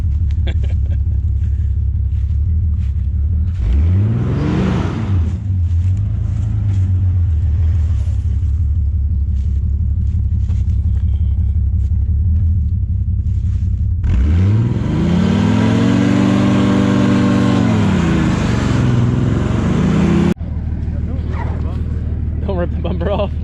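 A truck engine climbing a hill rumbles loudly and steadily, swelling into two hard revving bursts, one brief and one longer, before settling back to a heavy idle drone.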